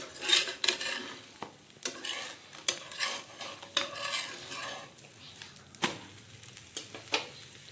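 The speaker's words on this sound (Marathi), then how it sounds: "एक तव्यावर टाकला डोसा" A dosa sizzles on a hot griddle while a spatula scrapes and taps against the pan in irregular bursts over a continuous frying hiss, close by with no voices.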